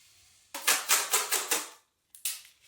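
Tape is pulled and pressed onto the underside of a flipped wooden tabletop, giving close, crackly rasps in a quick series of four or five bursts, a short pause, then one more.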